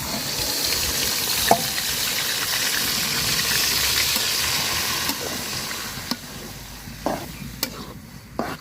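Fish roe mixed with onion, chilli and turmeric frying in hot oil, giving a steady close sizzle with stirring scrapes and a few sharp pops and clicks, no voices.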